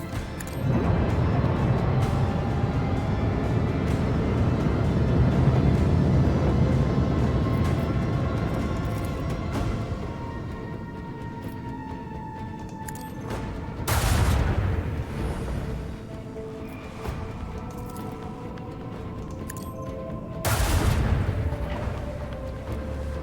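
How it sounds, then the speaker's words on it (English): Torpedoes launch in the video game Rogue Trader: two abrupt whooshing bursts several seconds apart stand out over a rumbling, fading bed of game sound and a faint musical drone. "Launch with torpedoes."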